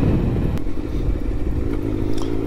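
A motorcycle rides along a road, its engine giving a steady, close, low rumble with slight fluctuations and some road clatter throughout.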